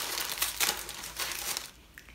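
Gift wrapping paper is ripped and crinkled open close by in a short burst of tearing and rustling, fading out near the end.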